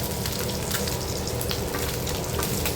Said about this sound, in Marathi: इकडे आपले बांगडे पण फ्राय झालेले आहेत आणि पापलेटही फ्राय करायला घेतलेले आहेत